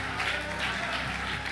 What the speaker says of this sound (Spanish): Aplaude a Dios, hermano.